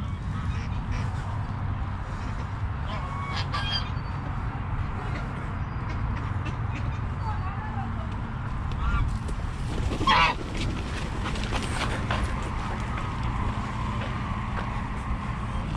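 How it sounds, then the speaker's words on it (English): Ducks and geese at Ascarate Lake honk and quack repeatedly over a steady bed of outdoor rumble and passing traffic, the calls scattered and moderately close, with one louder burst partway through. "Try to help that duck."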